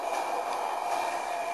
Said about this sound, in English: I am really not liking this train moving.